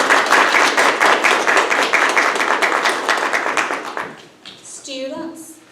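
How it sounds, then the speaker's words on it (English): Applause rings out at a nursing white coat ceremony for a practical nursing class, dense close clapping for about four seconds before fading into a brief murmur of voices. "Please join me in giving an applause to our practical nursing class of"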